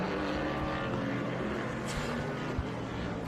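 A race car at the VIR SpeedTour runs flat out through the esses, its engine a sustained, steady roar with little change across the few seconds and no voices.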